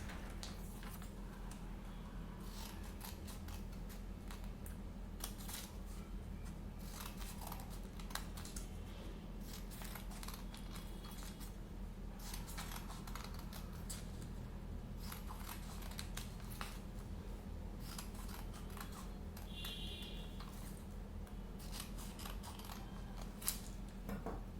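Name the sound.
scissors cutting thin lines in colour paper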